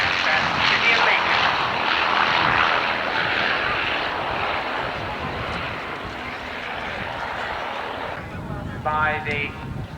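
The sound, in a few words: Avro Lancaster bomber flying in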